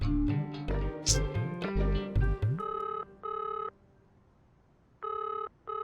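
Telephone ringing: an electronic ringback tone sounds in two evenly spaced pairs of bursts with a pause between, clear and close, following a short stretch of music at the start.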